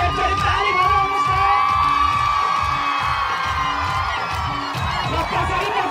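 An audience at an outdoor festival stage show, a town festival and trade fair, claps and cheers in a continuous dense roar beneath loud amplified music.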